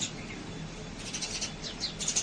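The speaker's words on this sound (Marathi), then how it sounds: "इकडे चिमण्यांचा खूप गोंधळ सुरू होता" Sparrows flock to a balcony bird feeder during the rainy season, giving a quick scatter of high, bright chirps and tweets that overlap busily over a soft steady background.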